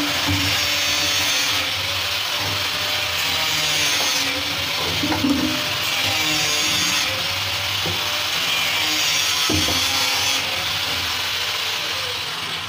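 Material is cut by hand for 4-inch false ceiling wiring, with repeated rasping, sawing strokes at steady volume, close by, with an occasional sharp knock.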